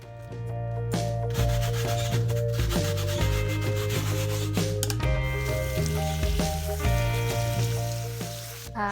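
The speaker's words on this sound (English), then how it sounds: "So then I decided to use the Dawn Power Wash. I really had to give it a good scrub." Vigorous scrubbing of a Ninja Foodi grill's mesh piece with Dawn Power Wash, steady loud close rubbing and scraping with a rhythmic back-and-forth texture, no talking.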